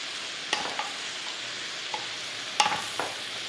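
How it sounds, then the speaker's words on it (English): Zucchini and sweet potatoes being stirred in a pan, with a few soft, scattered spoon scrapes and taps over a quiet hiss and no voices. "And stir it in with the sweet potatoes"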